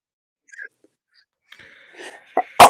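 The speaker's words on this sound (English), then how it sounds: "Okay, I have to sneeze." A single sharp sneeze bursts out at the very end after a few quiet breaths and small mouth noises, close and fairly loud in a quiet room.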